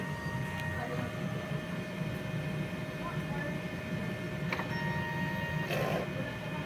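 A DTF printer runs a print-head cleaning cycle with a steady mechanical whir and faint tonal whines, with no breaks in the sound.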